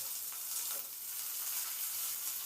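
Drumstick stalks and potato pieces fry in hot mustard oil, giving a soft, continuous sizzle and crackle that stays fairly quiet and even throughout, with no talking.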